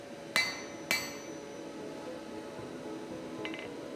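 Two sharp, ringing hammer blows strike hot steel on an anvil while box jaw blacksmith tongs are forged, followed by a fainter metallic tap near the end, all close and free of talk.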